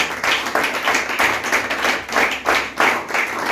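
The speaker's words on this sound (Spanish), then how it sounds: "Denle ese aplauso al Señor en esta hora." A church congregation claps together during a worship service, producing loud, close bursts of clapping in an uneven pulsing rhythm.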